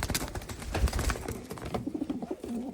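Pedigreed posta racing pigeons coo close by in low throaty bursts, a few calls overlapping and then trailing into softer murmurs, with some rustling movement in the loft.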